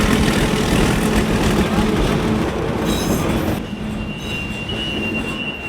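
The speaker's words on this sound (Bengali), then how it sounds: "ট্রেনের স্পিড অনেক বেড়ে গেছে আগের চাইতে।" A commuter train runs fast on the Narayanganj–Dhaka line nearing Chashara station, a loud, dense roar of wheels on rails with squealing and rattling, easing slightly toward the end.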